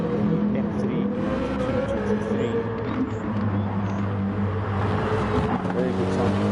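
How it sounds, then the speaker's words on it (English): A BMW racing car engine in a sim racing game drones and shifts pitch continuously, with a voice talking over it throughout. "Very good sound for car."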